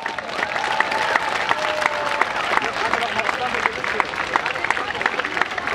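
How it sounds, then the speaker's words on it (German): Sustained applause from a large outdoor crowd of students at a school rally, dense continuous clapping with scattered cheers and voices mixed in, lasting throughout. "Großer Applaus an alle von euch!"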